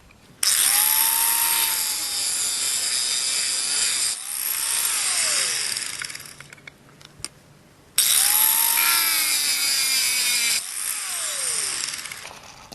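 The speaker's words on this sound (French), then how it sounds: "on donne tout simplement un petit coup à tous les galets, un petit coup de meuleuse" An angle grinder cuts notches into pebbles in two loud, close passes, each a high whining grind that drops in pitch as the disc bites into the stone, then winds down before starting again.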